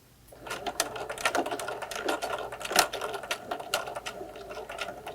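A sewing machine stitches a fabric face mask with a window and elastic, running in short, rapid bursts of mechanical clatter separated by brief pauses, close and fairly loud.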